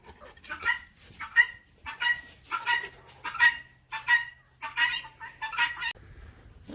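Puppies and chickens together outdoors, with about ten short, sharp yips or clucks recurring at an even rhythm, fairly close and clear, ending in a steady high tone.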